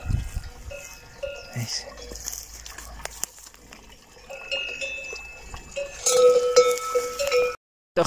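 Cows wearing cowbells come to drink at a mountain spring on Monte Abantos: scattered bell clanks ring out near and far over a quiet outdoor background, growing busier toward the end, with a voice speaking faintly.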